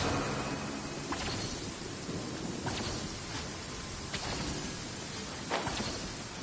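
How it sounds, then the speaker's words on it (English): Steady rain hisses in the Genshin Impact video game while several thunder cracks and rumbles break through at intervals, with no voices over the storm. "Let us find shelter from the rain."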